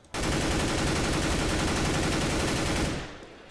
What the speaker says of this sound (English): Never go fully auto with your weapon. I'll show you what happens at a relatively close range right now.